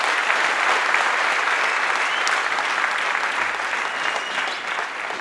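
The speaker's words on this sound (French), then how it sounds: "Acclamez-les." A convention crowd breaks into sustained applause with some cheering, a dense, even wash of clapping that stays strong throughout and eases slightly near the end.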